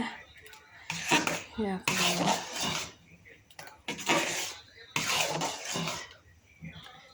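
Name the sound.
stirring chickpea halwa with ghee in a pan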